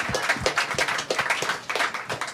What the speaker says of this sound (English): if we can clap for this guy